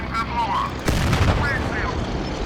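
The cannon of a BT-5 Mod. 39 tank fires a shell in the tank game Steel Fury with one sudden, loud, close boom and a rumbling tail. A voice is heard faintly before and after it.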